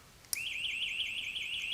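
An electric fence alarm siren wails loud and close, a sharp start followed by a steady, warbling tone that rises and falls in a fast regular cycle and continues without a break.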